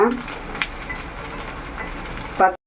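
Garlic and onion fry in sesame oil in a pan, giving a soft, steady sizzle close by, with a brief clatter near the end before it cuts off.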